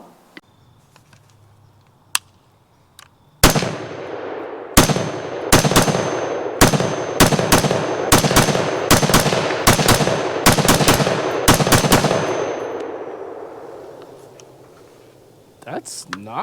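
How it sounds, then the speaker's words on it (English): A Croatian VHS-D2 or VHS-K2 rifle fires a full magazine on an outdoor range. About fifteen loud, sharp shots come in a steady semi-automatic rhythm, each followed by a ringing echo, after a few faint clicks. "let's let him put a mag through it before it gets too dark to do so."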